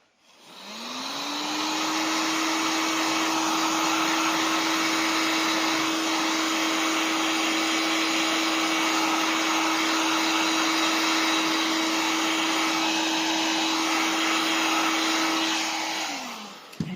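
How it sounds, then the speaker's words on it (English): Heat gun blowing hot air while drying a crafted star Christmas tree, a loud, steady close-up whoosh with a constant motor whine that spins up at the start and winds down near the end, with no talk. "get my heat gun again. Just take the edge off that."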